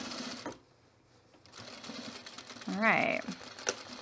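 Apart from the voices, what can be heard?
sewing machine sewing puffer vest seam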